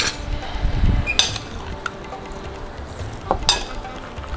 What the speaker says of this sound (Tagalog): Haluin natin ng mabuti.